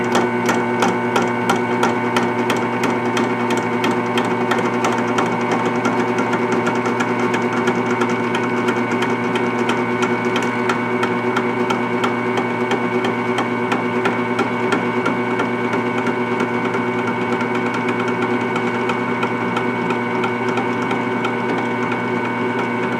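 A drill bores a very shallow hole in a slick metal face while an SKS disassembly tool is being made, giving a steady, loud, whining motor drone with a constant pitch that runs throughout.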